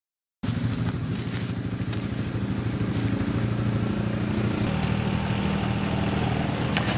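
A tractor engine starts up and runs steadily with a close, throaty low drone and a slight shift in tone partway through, used while spreading out a brush fire when clearing land for a meadow on a homestead.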